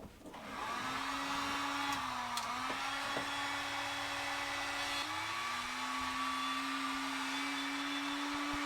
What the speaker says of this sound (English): the best way that I was able to get it off, is with the heat gun